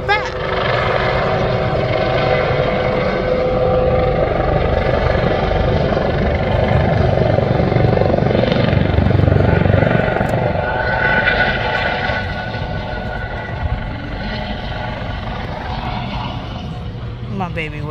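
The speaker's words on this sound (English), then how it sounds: "It's just the helicopter driving in circles." Helicopter circling over a beach during an air show, a steady loud rotor drone filling the whole stretch while people chat close by.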